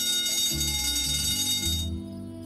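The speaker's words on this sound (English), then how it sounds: "Shouldn't you do something about that alarm?" A fire alarm bell rings continuously in the video game 3 Minutes to Midnight, a loud metallic clang with low hum, cutting off near the end.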